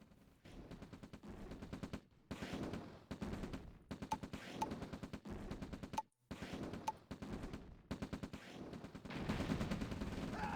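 Heavy gunfire from Mammoth tanks in the strategy game OpenRA Red Alert, dense bursts of rapid shots repeating in clusters with short silent gaps between them, loud and sustained.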